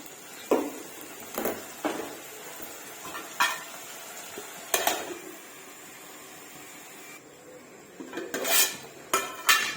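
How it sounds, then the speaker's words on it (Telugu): A spoon stirs chicken curry in a metal pot, giving irregular sharp clinks and scrapes every second or so, some in quick clusters, close and clear over a quiet background with faint cooking noise. "ఇప్పుడు దీన్ని కలియబెట్టుకుందాము"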